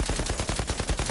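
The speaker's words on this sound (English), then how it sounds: "I'm just gonna give them some shots here while they're trying to get up to me" Rapid automatic gunfire from the video game Outriders, a fast even string of about a dozen shots in just over a second, loud and sharp.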